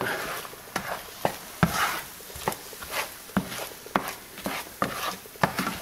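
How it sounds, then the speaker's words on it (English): An egg scrambles in a pan on a stove over medium heat. A utensil scrapes and taps about twice a second over a faint sizzle, close up, with no talking. "You just keep moving the egg around."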